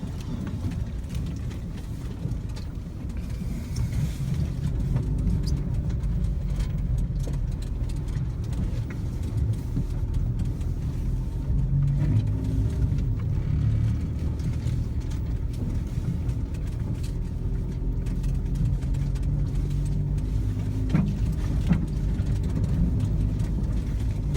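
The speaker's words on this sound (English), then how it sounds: "show you guys how the Fiat with snow tires walks right up this hill" A Fiat on snow tires climbs an icy hill, its engine a low, steady hum held for about twenty seconds, fairly quiet and a little distant, with no talk.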